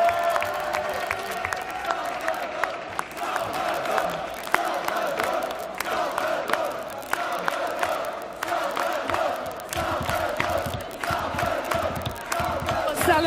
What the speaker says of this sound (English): So once again, a big and warm applause to Salvador Sobral